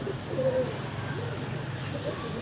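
A female PSP breed pigeon gives a soft, low cooing over a steady background hum. The coo is brief and fairly faint, and no one speaks.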